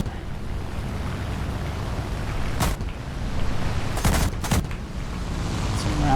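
A Do 335 A-0 fires short bursts of aircraft gunfire at a P-51 in a flight combat game: a few sharp rattling volleys cut through a constant roar of engine and rushing wind.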